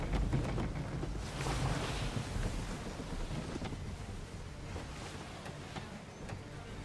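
Sailing ship in Assassin's Creed III pushing through open water under sail, a steady broad rush of wind and sea noise with rolling swells, loud and continuous, no talking.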